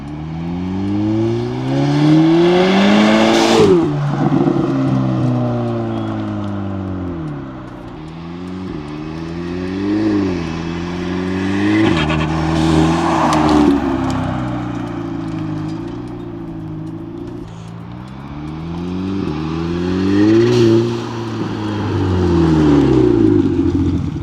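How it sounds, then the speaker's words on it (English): A powerful turbocharged Audi TT engine with an aftermarket intake revs repeatedly, pitch sweeping up and down in several surges, with fluttering turbo bursts as the throttle lifts; loud and close, no talking. "Never in my life have I heard a car with the turbo fluttering under load"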